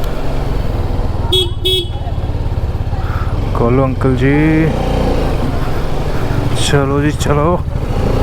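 An Apache RR 310 motorcycle rides through traffic with a steady engine and road rumble, passing vehicles sounding their horns several times, while a rider calls out to people nearby.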